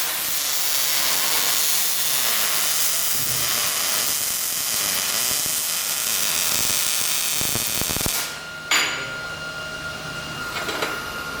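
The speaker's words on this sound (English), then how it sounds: "I know that's a good weld because I can hear it." A MIG welding arc gives off a steady, loud crackling hiss that runs unbroken for about eight seconds, then cuts off and leaves quieter clicks and faint tones. No one speaks.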